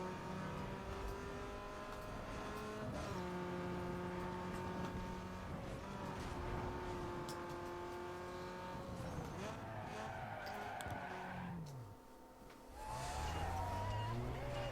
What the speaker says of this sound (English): I should probably use nitrous at some point just to say that I've used nitrous